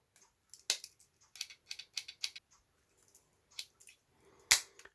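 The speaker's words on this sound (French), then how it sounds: "On a les ciseaux." A series of short, sharp metallic snips from the small scissors of a Victorinox Compact pocket knife being opened and closed, irregularly spaced and fairly close, with quiet pauses between them.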